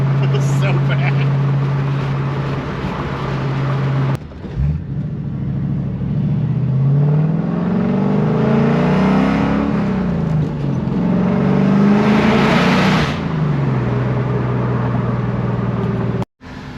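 A Coyote-swapped 2006 Ford Mustang's engine revs hard and loud, its pitch sweeping up toward about 7,000 RPM, falling, and climbing again in long pulls before cutting off abruptly.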